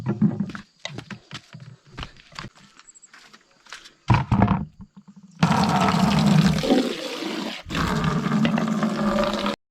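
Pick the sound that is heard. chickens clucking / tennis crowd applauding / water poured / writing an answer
water poured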